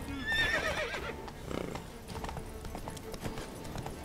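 In The Witcher 3 a panicked horse whinnies shrilly near the start while hooves clip-clop steadily throughout, set against game ambience.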